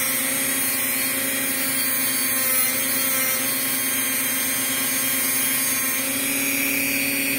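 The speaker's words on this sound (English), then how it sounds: "And just give you a sense of what happens on this buffing wheel." Buffing wheel spinning steadily against model railroad track to burnish it, a continuous loud whirring hum with strong tonal bands, holding an even level for the whole stretch with no talk.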